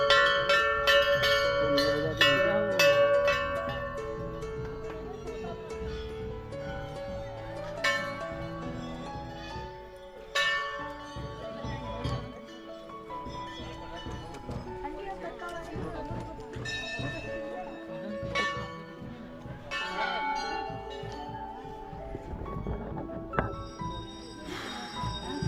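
Temple bells ring out repeatedly with bright, lingering metallic tones, struck at irregular intervals over a busy background of people talking and moving about at the Sem Mukhem Nagraja temple.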